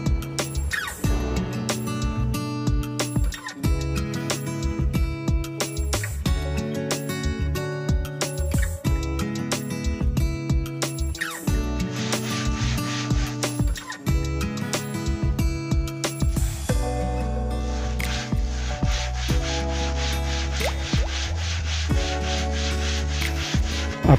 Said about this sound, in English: After few hours of grinding with COC stroke, you can see no air bubble at the center.